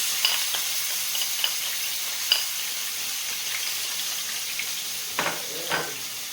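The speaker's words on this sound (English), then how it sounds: "We're going to add the garlic and the onions." Garlic and onions sizzle steadily in a hot pan, a loud continuous frying hiss with occasional light scrapes and clicks of a spoon stirring.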